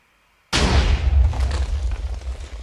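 A video-game cannon fires once after a short silence: a sudden heavy boom with a deep, rumbling tail that fades slowly, loud and close, with no talk.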